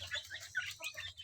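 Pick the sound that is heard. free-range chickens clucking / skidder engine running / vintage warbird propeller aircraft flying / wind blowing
free-range chickens clucking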